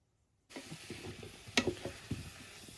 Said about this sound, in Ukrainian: А тепер викладаю їх на пательню до зажарки.